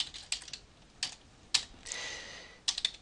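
Keys tapped on a computer keyboard in short irregular bursts as a web address is entered, close and quiet, with no talking.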